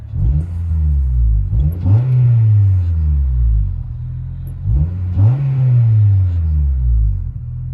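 Interior of a 2005 Honda Civic Si EP3 hatchback with an aftermarket cat-back exhaust, revved twice in strong rising-and-falling sweeps over a steady idle rumble, loud and close.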